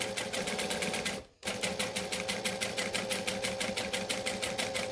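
A sewing machine back stitching fabric chatters in a fast, even rhythm, pauses briefly once, then resumes its steady close stitching.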